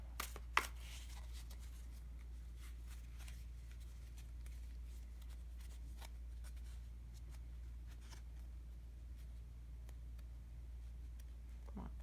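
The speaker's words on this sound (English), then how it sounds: "So let's just do a quick shuffle here, and we're going to deliberately choose 3 cards from the deck." A deck of tarot cards is shuffled by hand, a faint, soft riffling and scraping close by with a couple of sharper card taps near the start, over a steady low hum.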